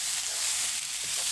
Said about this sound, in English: Mince in. Get that all mashed up, and we will get it all browned up first.